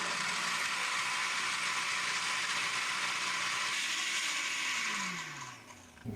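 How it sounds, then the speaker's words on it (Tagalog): A blender whirs at high speed grinding fine salt into powder, a loud steady motor whine that winds down near the end as the motor slows. "susubukan natin gumawa ngayon ng powdered salt gamit ang ating blender"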